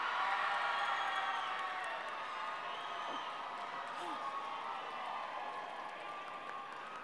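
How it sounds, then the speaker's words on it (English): A large crowd cheering at a World Youth Day gathering in Madrid, a dense sustained roar of voices that stays steady and slowly tapers, heard from within the crowd. "let's cheer as loud as you can"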